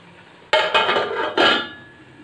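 A metal lid clanks onto a cooking pot of chicken karela curry: a sharp clatter followed by a second rattling clink as it settles, close and alone, with the ringing fading quickly.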